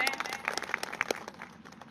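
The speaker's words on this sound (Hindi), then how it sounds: "तो एक बार अपने लिए जोरदार तालियां बजा लें।" Audience at a health-plan presentation event clapping together in a dense, moderately loud burst of applause that holds steady for a couple of seconds, with some voices mixed in.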